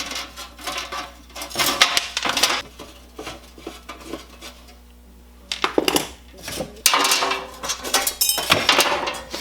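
Metal hardware being unscrewed from an antique 1940s street sign: clusters of metallic clinks, scrapes and taps close by, separated by quiet pauses.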